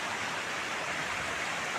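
A river in rural Konkan flows beside a tree-planting site, giving a steady, even rush of water heard alone.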